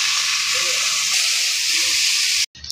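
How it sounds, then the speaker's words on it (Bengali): Small fish frying in a pan, a steady loud hiss and sizzle of hot oil that holds evenly throughout and cuts off abruptly near the end. "তো এই যে মাছটি ভাজা নিতেছে, মাছটি গুঁড়া মাছ"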